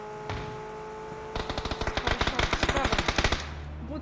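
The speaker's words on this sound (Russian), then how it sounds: "Вот он стреляет." Sustained automatic gunfire from an enemy in the video game PUBG, a rapid burst of close, loud shots lasting about two seconds after a single earlier crack.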